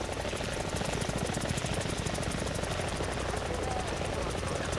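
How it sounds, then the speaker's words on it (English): Helicopter in the War Thunder video game, a loud close rhythmic rotor chop over a steady turbine whine, continuous throughout. "What a cool helicopter."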